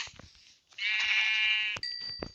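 A sheep in the Minecraft video game gives a couple of short, clear, tonal bleats, close and alone, with faint clicks around them.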